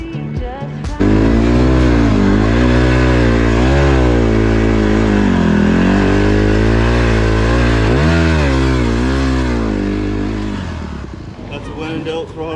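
A motorcycle at a motofest held at a loud, sustained high-throttle rev with the engine note rising and falling for about ten seconds before easing off, close and dominant, with crowd noise around.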